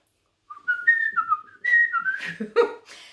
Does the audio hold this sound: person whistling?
yes